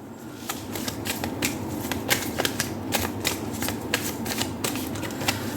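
Prism Oracle tarot cards are shuffled close up during a reading, with a rapid train of crisp riffling clicks and flutters at an even pace. No voice is heard.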